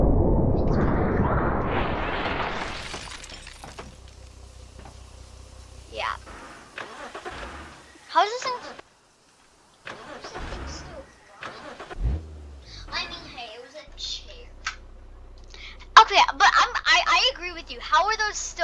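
Cars in the BeamNG.drive video game crash with a loud opening rumble, followed by scattered metallic impacts and bangs, with a brief silent gap and talk in between.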